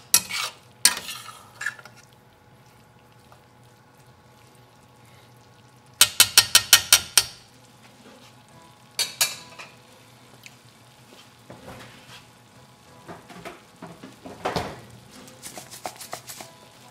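Sausage, broccoli and farfalle pasta get tossed and stirred in an All-Clad pot, with bursts of rapid metallic scraping and clattering of a utensil against the pot between quieter pauses and a soft sizzle.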